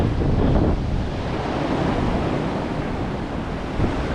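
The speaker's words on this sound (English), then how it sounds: "the wind's just blowing them back around" Strong outdoor wind gusts roar steadily into the microphone in a yard where raked leaves are being blown back around, a loud, continuous buffeting with no talk.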